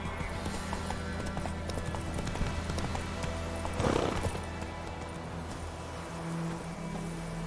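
Horse hooves trotting in The Witcher 3, a steady clip-clop rhythm over a low ambient drone, with a brief louder rustle midway.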